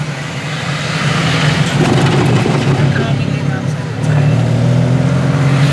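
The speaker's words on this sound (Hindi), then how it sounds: "पहाड़ी एरिया में गाड़ी चलाने का मजा लेते हुए" A car climbing and winding along a hilly road, its engine a loud steady drone that shifts pitch midway, heard from inside the vehicle.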